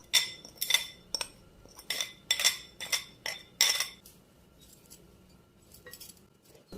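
A spoon or utensil clinks repeatedly against a bowl while a protein salad, dressed with a spice mix, is tossed for a healthy iftar, a quick run of sharp rhythmic taps that then fades to scattered quieter scrapes.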